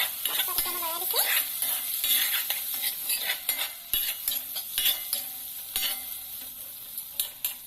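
Tomatoes and two green chilies are stirred in a sizzling pan, the spoon scraping and clinking against the metal in an uneven rhythm over a constant hiss of frying, up close and without speech.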